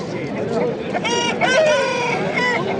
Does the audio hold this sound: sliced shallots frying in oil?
no